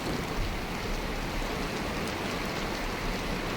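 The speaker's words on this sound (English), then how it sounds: "It brings with it a devouring rain." Dense, heavy rain from a video game's storm at sea pours down in an unbroken hiss, loud and close, with no other sounds.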